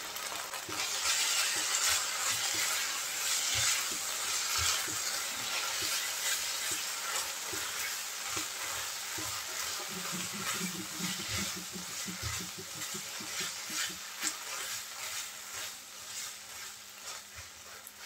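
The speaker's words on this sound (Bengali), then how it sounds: "আমি নেড়ে চেড়ে মাছটা ভেজে নিয়েছি একটু" Fish tails fry in a pan while being stirred, a steady close sizzle with scraping and clinking of the spatula throughout.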